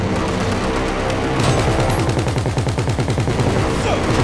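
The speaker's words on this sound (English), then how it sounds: "Keep shooting, nigga! Keep shooting!" Repeated gunfire in a rapid, sustained burst of shots from a firearm, loud and close, with yelling voices around it.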